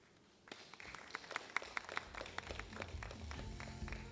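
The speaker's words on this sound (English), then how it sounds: "Another round of applause," Audience applause at the AVC Women's Cup Candon 2026 drawing of lots ceremony, a steady patter of many hands clapping that begins abruptly after a quiet moment and holds at moderate, somewhat distant level.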